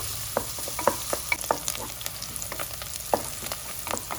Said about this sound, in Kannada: ಈರುಳ್ಳಿ ಎಣ್ಣೆಯಲ್ಲಿ ಚೆನ್ನಾಗಿ ಫ್ರೈ ಆಗಿದೆ